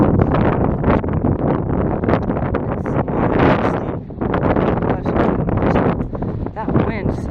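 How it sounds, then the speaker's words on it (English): Strong wind buffets the microphone on a mountain peak during a hike, loud gusty roaring that swells and drops in uneven waves throughout, with no other clear sound standing out. "That wind sucks though. That's cold."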